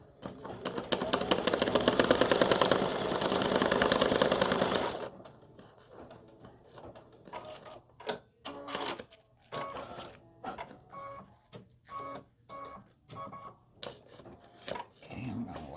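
An embroidery machine stitches "I love you" in red thread onto card stock for a Valentine greeting card, a loud steady mechanical whirring for about five seconds that then stops, followed by someone talking.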